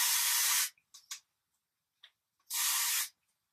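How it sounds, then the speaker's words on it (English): L'Oreal light blonde root concealer spray hisses onto hair in two short bursts, each about half a second long and close to the mic, separated by quiet gaps with faint small handling noises. "I would probably spray it with some blonde L'Oreal concealer spray in light blonde for blondes with dark roots"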